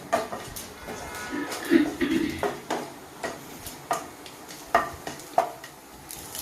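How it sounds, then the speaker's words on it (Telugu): Curry leaves crackle and sizzle in hot oil in a pan for a mango chutney tempering, with sharp pops and spits, while a person talks nearby. "ఇప్పుడు కరివేపాకు వేస్తామండి ఉంటాయి"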